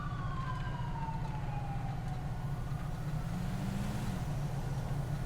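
A video game police siren wails, sweeping up and down over a steady low engine drone, moderately loud and continuous.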